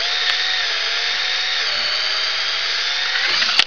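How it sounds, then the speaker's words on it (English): A power drill countersinking screw holes in wood for an Adirondack rocking chair, one continuous close whine that holds steady and then cuts off. "I've got to countersink them because this is so deep."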